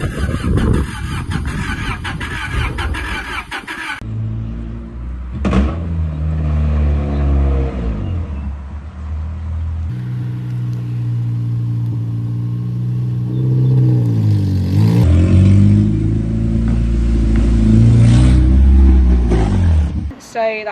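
A 1996 Honda Prelude engine cranks and catches, then revs up and down repeatedly with rising and falling whines, loud and close, with a clattering idle between revs.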